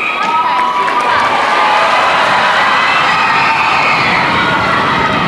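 A netball crowd roars continuously for the Melbourne Waverley Pumas, a dense, loud wash of cheering and shrill shouting with whistle-like cries, steady throughout with no letup.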